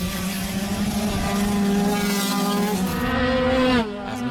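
Racing cars at a Kirkistown race meeting roar past with a steady, loud engine drone that rises in pitch and then cuts off abruptly near the end, with no voices.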